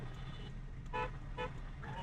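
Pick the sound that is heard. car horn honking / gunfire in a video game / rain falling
car horn honking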